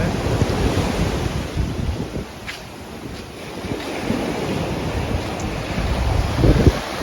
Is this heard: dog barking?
no